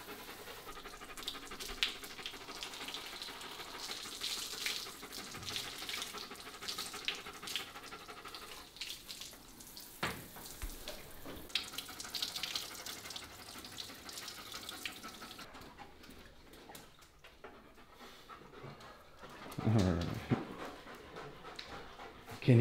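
Tap water runs steadily during a dog's bath, splashing onto fur and a tub. The dog pants and now and then gives a soft whimper, and a louder gush of water comes near the end. Everything stays fairly quiet.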